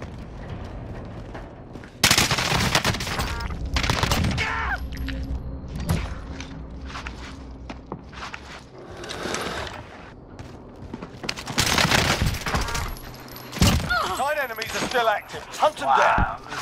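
Video game gunfire in a multiplayer shooter, bursts of loud automatic fire and single shots in irregular clusters, near and sharp, mixed with game radio chatter and players talking over it.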